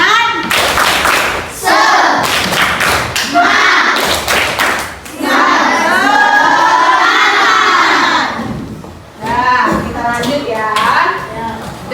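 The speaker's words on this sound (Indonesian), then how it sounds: "Ya, kita tepuk semangat terlebih dahulu." Primary school children in a maths class perform a rhythmic 'tepuk semangat' clapping chant led by their teacher: sharp bursts of group claps followed by loud shouted chanting, close and energetic.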